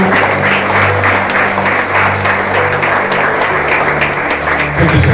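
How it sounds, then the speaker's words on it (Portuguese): A church congregation applauds during a Sunday family service, a steady, loud wash of clapping with a low sustained hum or music beneath it throughout. "Vamos aplaudir o Senhor."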